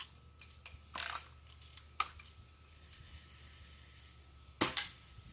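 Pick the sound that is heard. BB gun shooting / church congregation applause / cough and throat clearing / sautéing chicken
BB gun shooting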